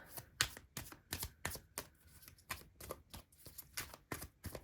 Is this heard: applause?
no